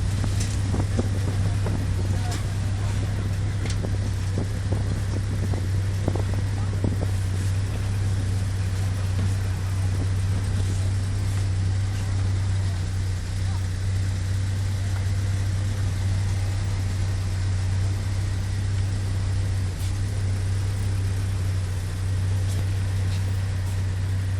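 A very basic ferry's engine drones steadily while crossing the Mekong in Laos, a loud, constant low-pitched hum running unbroken throughout with scattered faint knocks and clatter on top.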